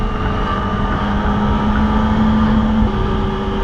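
A steady engine drone from a Kawasaki ZX25R sport motorcycle with a modified exhaust runs throughout at a constant, loud level, with a low humming tone and rough rumble, cruising under way.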